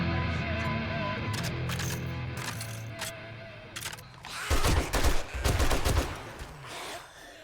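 Gunfire in the video game 7 Days to Die, a loud burst of rapid shots near the end, following music with singing.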